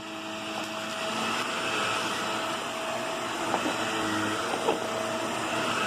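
A Shark Navigator NV22LWM31 corded upright vacuum cleaner runs with a steady, loud whirring drone throughout, with a couple of small bumps or clicks near the end and no talking.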